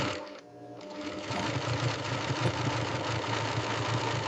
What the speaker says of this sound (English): Pelts are sewn together fur side out.